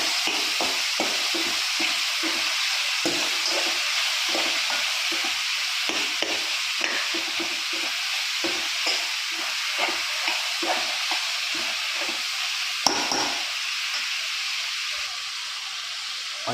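Squid roasting in a pan hisses with a steady sizzle while a utensil stirs and scrapes it in quick, irregular strokes close by.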